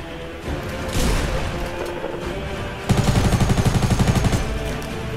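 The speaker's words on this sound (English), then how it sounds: "I love the attack submachine gun, it's great" Attack submachine gun fire in Fortnite, a rapid rattling burst of evenly spaced loud shots after some earlier rumbling game noise, close and dominant.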